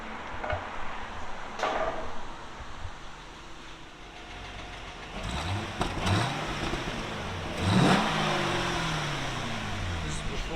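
Stock-exhaust 2008 Chevy Corvette with an LS3 V8, revved a few times in rising and falling sweeps beneath a steady background rumble, at moderate volume.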